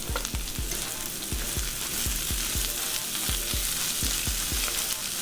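A tablespoon of butter melts over a medium-high flame, hissing steadily in the pan, with a regular series of soft low thumps running under the continuous sizzle.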